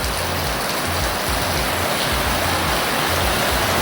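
Heavy summer rain pours down in rural West Cork, a dense, loud, unbroken hiss of water with a low rumbling undertone, steady from start to finish.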